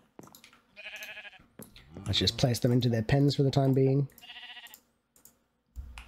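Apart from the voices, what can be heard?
sheep bleating in the video game Minecraft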